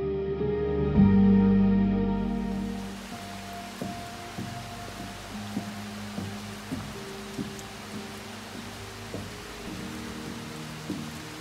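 Light drizzle on a mountain trail along the Art Loeb Trail, a soft continuous hiss of fine rain with scattered faint thuds and taps after a brief louder rustle at the start.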